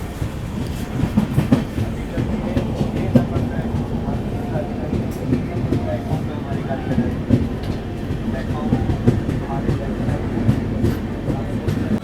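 A local train runs along the rails while pulling into Aligarh Junction railway station in India, giving a steady close rumble with rhythmic wheel clatter throughout and no talk over it.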